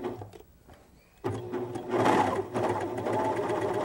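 A serger sewing machine stitches French sewing faggoting, starting up after a quiet second and then running as a steady, close, rapid mechanical whir to the end.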